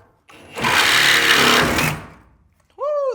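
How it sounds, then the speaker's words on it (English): A reciprocating saw cuts off a nailed-in bottom on an off-grid build, a loud, steady buzzing burst of about a second and a half that starts abruptly and then tails off, followed by a brief voice. "I am going to have to cut it off with the Sawzall"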